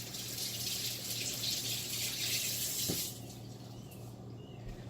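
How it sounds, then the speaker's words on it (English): Food being rinsed under a running kitchen tap, a steady close hiss of flowing water for about three seconds before it shuts off, leaving a soft background hum. "So I'm going to wash this off."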